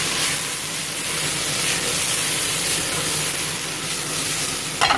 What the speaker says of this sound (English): So I'm just sweating some onions off now.